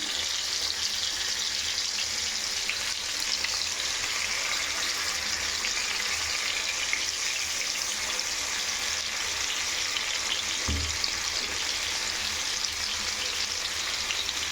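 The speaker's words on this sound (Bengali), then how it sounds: "এইভাবে করে আমি পনিরগুলোকে ভেজে নেব।" Paneer cubes frying in a pan of oil over a lowered gas flame, giving a continuous close, bright sizzle with a faint low thump partway through and no talking.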